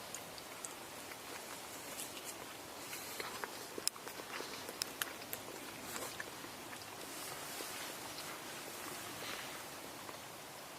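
Faint footsteps crunch around outside a tent at night in the woods, soft scattered steps and small snaps over a steady hiss, distant and never loud.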